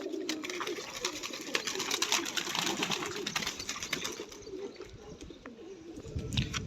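Pigeons that have just been bathed coo steadily up close, a dense, continuous murmur of soft calls with rustling in the background.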